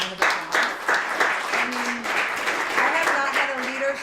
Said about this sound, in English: And can we just give Matthew a big round of applause?